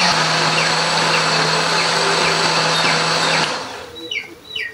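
An electric blender grinds red curly chili, shallots, garlic and a little water into spice paste with a steady loud whir, then cuts off, leaving a short quiet tail.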